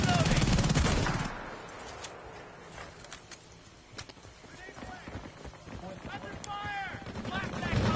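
Gunfire in the video game Battlefield Bad Company 2: a dense burst of loud shots opens the passage, then scattered cracks and rapid volleys continue at varying distances amid battle noise, with occasional voices.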